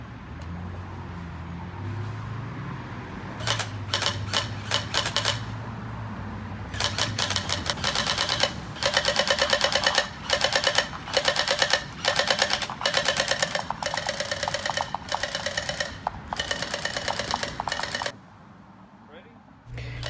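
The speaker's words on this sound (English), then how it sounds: "Here's me mag dumping the drum mag." An inexpensive gel blaster toy gun dumps its drum magazine in rapid bursts of sharp clicking shots, the bursts separated by short pauses, close and clear over a quiet outdoor background.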